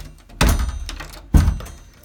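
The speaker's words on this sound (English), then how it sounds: "Door closes fine with no concerns on the door" A door swings shut indoors during a home inspection, giving two solid, close thunks about a second apart, each with a short ringing tail, and no talking.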